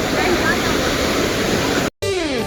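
Waterfall roaring as a steady, loud broadband wash of falling water, close and continuous, broken by a brief cut near the end before the rush resumes.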